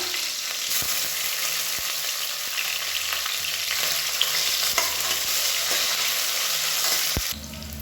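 Mint and curry leaves fry in hot oil with onions and green chillies, a loud, steady, close hiss with sharp scraping stirs at intervals, easing off near the end, with no voices.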